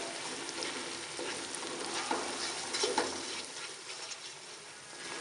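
Ground spices (salt, red chilli powder, coriander powder, turmeric) frying in hot oil in a pan for aloo matar gravy, giving a steady close sizzle with light stirring scrapes throughout.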